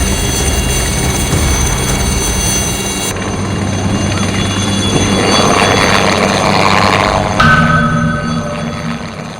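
A helicopter flying over mountains gives a loud, continuous engine and rotor drone that holds steady for several seconds, shifting in tone partway through as it passes.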